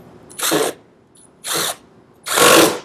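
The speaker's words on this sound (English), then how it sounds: "Make sure the drill's in the right direction, going in the right mode" A power drill drives a screw into the wooden base of a DIY solitary bee house in three close, loud whirring bursts separated by short pauses.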